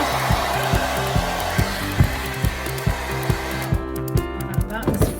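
A hair dryer blows loudly and steadily in a dressing area, with a rhythmic thumping pulse under the broadband rush of air. The whine drops away near the end.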